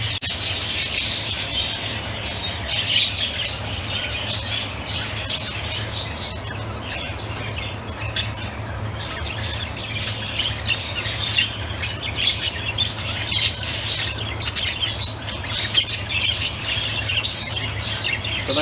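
Many birds in an indoor bird room keep up a continuous busy chorus of squawks and chirps, fairly close and loud, with occasional fluttering over a low steady hum.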